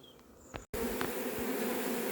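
A swarm of honeybees hums in a dense, steady buzz close by while being collected from cut branches, preceded by a quieter stretch with a few individual bees and a brief dropout.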